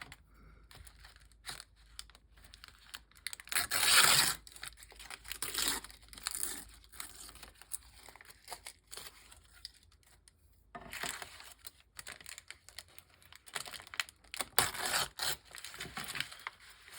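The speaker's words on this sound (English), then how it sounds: "My scissors and rough up the edges." Up close, scissors scrape the edges of a small paper card printed with a Ferris wheel, producing uneven rough rubbing and crinkling strokes, some louder bursts and quieter stretches, with no voices.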